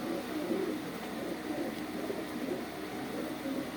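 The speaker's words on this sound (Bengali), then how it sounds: "এটা হলো মাদি কবুতরটা" Female pigeon cooing softly in a low, steady murmur among other pigeons, nearby but faint beneath a constant hiss of background noise.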